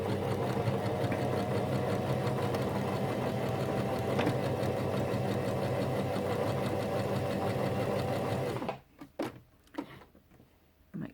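A Janome FD206 or RE1306 sewing machine runs straight stitches in one steady, close, whirring mechanical burst for about eight seconds, then stops abruptly, leaving only a few soft clicks and handling sounds.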